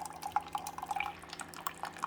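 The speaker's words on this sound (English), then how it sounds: "take that water and descaling solution, run it through the machine, and it's going to come out here" A Keurig K-Select coffee maker dispensing hot water and descaling solution, heard as faint, irregular close dripping and trickling over a low steady hum.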